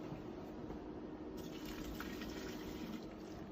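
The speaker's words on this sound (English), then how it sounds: "Get the water out." Water drains from a pot of cooked boxed macaroni as a steady, faint rushing pour that runs evenly throughout, with no voices.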